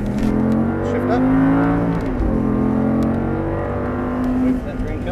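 An Audi R8 at full throttle gives a loud, close engine roar that climbs steadily in pitch, dips briefly, then climbs again. An instructor talks over it.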